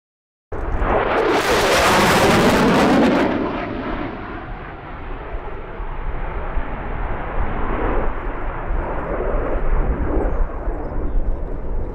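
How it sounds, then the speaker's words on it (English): In a Roblox game, a simulated F-16 jet makes a fast low pass at full afterburner. A loud roaring blast swells and peaks over the first few seconds, then drops to a sustained rumbling roar that carries on to the end. "As he passes show center, he will be in full afterburner, just under the speed of sound at nearly 700 miles per hour"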